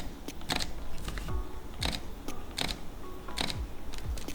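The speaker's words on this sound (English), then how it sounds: "And the new sound on this shutter" Mechanical shutter of a Fujifilm X-T4 camera firing in quick, close, crisp clicks, spaced at irregular intervals and heard alone in a quiet room.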